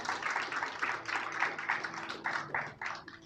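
A church congregation claps in rhythmic bursts, a moderate wave of applause rising and dipping over a few seconds.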